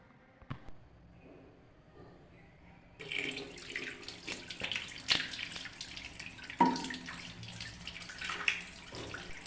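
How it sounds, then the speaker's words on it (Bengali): Tap water runs into a sink as a face is washed on a winter morning. Quiet at first with a single knock, then a steady stream with irregular splashes from about three seconds on. "তারপরে দেখো ফ্রেশ হলাম, মুখটা ধুলাম"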